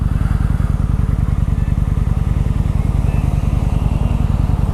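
A Kawasaki Vulcan motorcycle engine runs steadily with a low, rapid, even thumping pulse, loud and close throughout as heard from the rider's helmet on the road.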